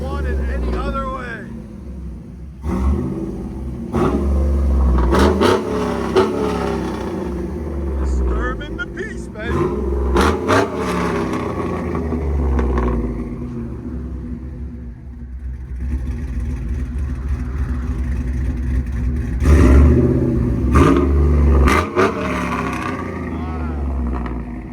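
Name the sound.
2008 Chevy Tahoe 5.3L V8 exhaust, headers, Flowmaster Super 10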